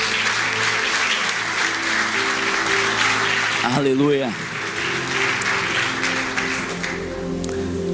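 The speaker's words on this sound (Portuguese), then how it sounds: "Você pode aplaudir essa palavra, meu amado?" Church congregation applauding steadily and fairly loudly throughout, with a voice briefly speaking and singing out over the clapping midway, then the crowd's applause continuing.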